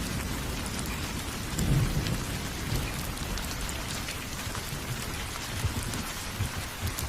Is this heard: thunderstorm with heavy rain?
yes